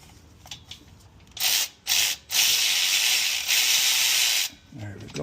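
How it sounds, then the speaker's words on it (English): A cordless ratchet drives a bolt on the starter of a 2006 Toyota Tundra 4.0L. Two short bursts come first, then one long, close, harsh whirring run of about two seconds before it stops. "I'm going to try to use my cordless ratchet in here"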